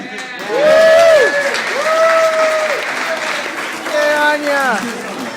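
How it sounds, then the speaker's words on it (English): Loud audience applause at an indie game developers' post-mortem talk, rising quickly and holding for several seconds while voices call out and talk over the clapping. "That's an applause moment, guys."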